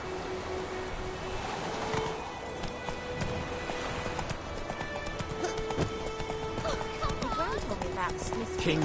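Roach the horse gallops with rhythmic hoof clatter in The Witcher 3, set in White Orchard, with a neigh and other game sounds, while voices talk over much of it.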